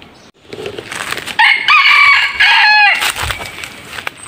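A decoy rooster used for junglefowl hunting in the mountains lets out one loud, close crow, rising and then trailing off over faint outdoor background noise.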